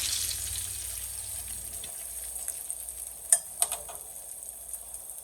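Pork chops shallow frying in a pan give a steady, close sizzle with a constant hiss throughout, punctuated by a few sharper pops and crackles near the middle.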